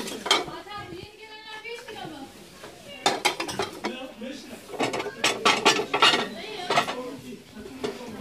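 Marble-patterned ceramic serving plates clink and clatter as they are handled and stacked, a series of close, sharp ringing knocks in irregular bursts, with a person talking between and over them.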